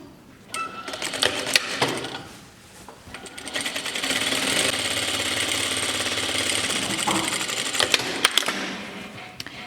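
Sewing machine stitching the hem of a shirt, running in a steady, close, rapid mechanical whir for several seconds, with short start-and-stop bursts at either end and no talk.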